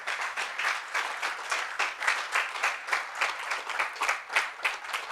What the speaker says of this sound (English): So please give them a nice round of applause for their efforts.